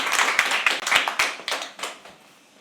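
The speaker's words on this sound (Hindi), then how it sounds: "start clapping please" Audience at a live poetry open mic clapping: a run of sharp, uneven hand claps from a small crowd, close and fairly loud, thinning out and fading toward the end.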